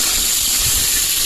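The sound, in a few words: water poured into hot quail curry pot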